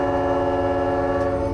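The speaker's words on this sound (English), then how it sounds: "The train's horn has to be sounded before they hit the darkness." A freight train's horn blares steadily and loud at a rocky cutting just before the locomotive enters the first of a series of tunnels on an Australian rail line, a sustained chord held without a break.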